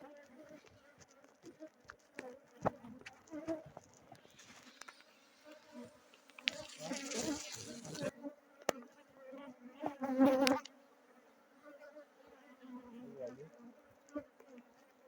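Bees buzz continuously around a beehive during a honey harvest in Yamoussoukro, with a steady close drone, louder bursts of activity and occasional knocks and handling sounds from the hive work.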